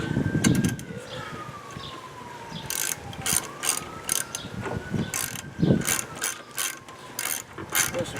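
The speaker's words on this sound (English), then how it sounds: "Guess I better tighten that little tube up." Wrench tightening a small tube fitting on an old MTD Central Park mower engine, close clicking ratchet strokes in uneven bursts over a faint wavering siren in the distance.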